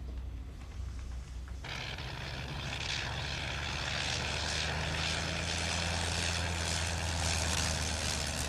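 A propeller airplane running low on fuel drones overhead, its engine hum swelling and holding steady, near and loud after a brief quieter start.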